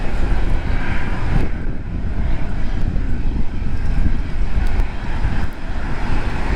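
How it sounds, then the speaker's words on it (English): A small private jet taking off at a windy international airport, its steady engine roar held loud and even throughout, mixed with broadband wind noise and no voices. "A little private jet getting out."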